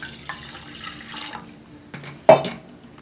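Water is poured into a pot to make tea in a home kitchen, with a soft, faint trickle and one short, sharp splash or clink near the end. No one speaks.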